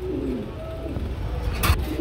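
Pigeons at a bird market give a soft, low cooing close by, a short rolling call over steady background noise.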